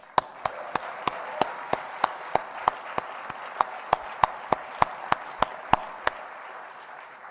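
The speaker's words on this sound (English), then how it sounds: "Congratulations with big claps." An audience at a closing ceremony claps in unison, sharp, evenly spaced beats of about three per second, nearly twenty in a row, over a soft background hum before stopping.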